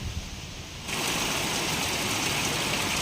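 Dense, steady downpour of heavy rain, starting slightly softer then jumping to a full, continuous roar.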